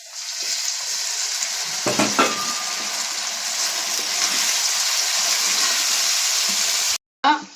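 Tomatoes and green chillies hit a pan of sautéed onion and garlic, producing a steady, loud, close sizzle with a few sharp crackles and stirring scrapes early on, then a sudden cut near the end.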